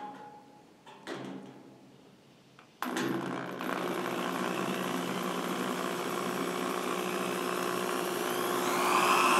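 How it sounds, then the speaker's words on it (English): Electric drill boring into steel while building a wood and steel crib for a power hammer: a start-stop burst, then a loud, steady whining grind that holds for several seconds and rises slightly in pitch toward the end. "So you start your drill slow."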